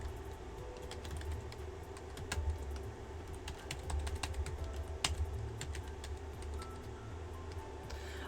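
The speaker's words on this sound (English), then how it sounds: "If you hear me typing, I'm just typing to myself" Steady clicking of a computer keyboard, close and continuous, with irregular rapid keystrokes over a low background hum for the whole stretch.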